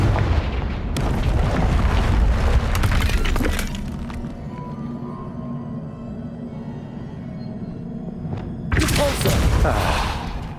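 A Confringo fire spell explodes in Hogwarts Legacy on Nintendo Switch: a loud, booming, crackling blast that slowly dies into a low rumble, followed by a second sharp burst near the end.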